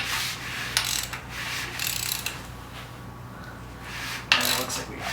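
An LM7 V8 rotating assembly turned over by hand on the stand, giving faint metallic clicks, light scraping and a few sharp ticks that come and go over a low background hum.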